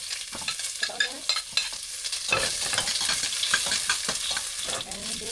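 Onions fry in a little hot oil in a pan, a close, steady sizzle with scraping stirs and soft knocks throughout.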